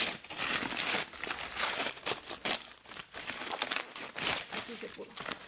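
Packaging around silicone molds crinkles, crumples and tears in bursts while unwrapped by hand, close up, with a voice speaking at times over the noise.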